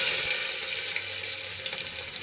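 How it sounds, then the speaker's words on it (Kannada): Onion and green chillies sizzle loudly in hot oil for tomato bath, a dense, continuous crackling hiss that fills the whole moment at close range. "ನೆಕ್ಸ್ಟ್ ಈರುಳ್ಳಿ ಮತ್ತು ಹಸಿಮೆಣಸಿನ್ಕಾಯನ್ನು ಹಾಕ್ಕೊಳ್ತಾ ಇದ್ದೀನಿ."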